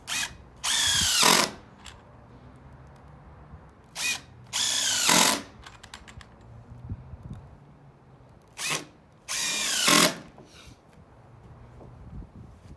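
A screw gun drives screws into GreenWell plastic decking in four loud whirring bursts, short and long in turn, with quiet gaps between them and no talk.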